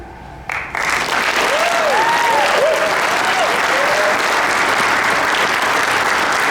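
Loud, sustained applause from an inauguration crowd in Derby greeting Mayor Joseph DiMartino after his oath of office, with a few whistles rising over the dense clapping, which swells in after a brief quiet start.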